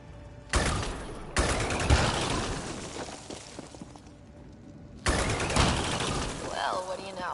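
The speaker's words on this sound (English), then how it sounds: "Go ahead and shoot the rock or something." Gunfire in Mass Effect Andromeda as a character shoots at a rock, with loud bursts of rapid shots and impacts in two bouts, game voices speaking between them.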